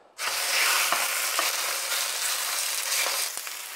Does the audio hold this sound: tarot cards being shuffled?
no